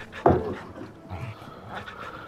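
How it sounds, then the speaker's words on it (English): A dog in the video game Final Fantasy XVI pants and whimpers softly after one louder opening huff, with quiet breathy sounds continuing over low background. "Let's pet the dog."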